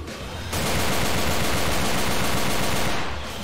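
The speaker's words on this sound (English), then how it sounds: "I think that's the most shots I've fired this entire fucking campaign" Rapid sustained gunfire in Left 4 Dead 2, a loud continuous burst of automatic shots that starts abruptly and runs for nearly three seconds before cutting off.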